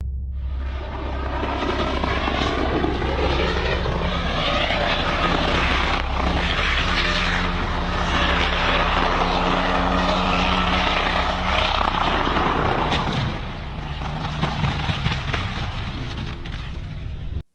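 A helicopter takes off from an airfield and flies, a loud continuous rotor and engine drone that holds steady and then eases slightly toward the end, with no talking.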